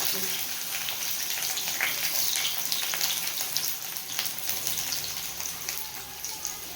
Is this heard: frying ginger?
yes